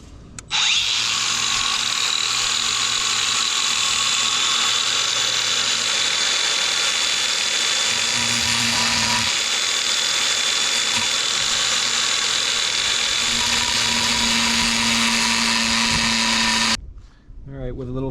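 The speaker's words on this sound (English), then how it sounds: "you're gonna have to use something like an angle grinder" An angle grinder cuts a metal fitting off a hose, a loud close whine that holds for about sixteen seconds with small dips in pitch before it winds down and stops.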